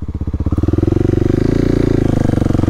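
A Kawasaki KLX 300 dirt bike thumps along a road, its single-cylinder engine pulsing in a fast, even rhythm that climbs slightly in pitch, loud and close with no voices.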